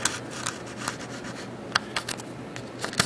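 Lead pencil marking the top edge of a wooden tenor guitar side in a workshop: light scratchy strokes with a few sharper ticks, close and fairly quiet, no talk.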